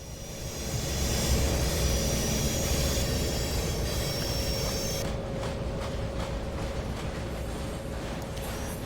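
EMD F7 diesel locomotives haul a long freight train through the Feather River Canyon in Train Simulator Classic, a steady loud rumble of engines and rolling wagons with wheel squeal, continuous with no talk.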